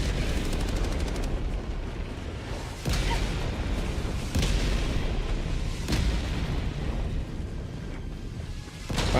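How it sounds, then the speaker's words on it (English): Heavy orbital barrage explosions in a Star Citizen video game, a series of deep booms landing every second or two over a continuous low rumble, loud and sustained with no talking. "Firing orbital barrage."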